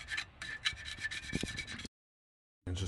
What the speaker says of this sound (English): just gotta get your little scraper and go back over it